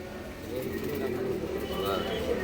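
Soft cooing of Andhra and Madras cross-breed pigeons in a pigeon house, low murmuring calls beneath someone talking nearby.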